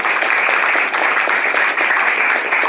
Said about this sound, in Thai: ขอเสียงปรบมือให้ด้วยครับ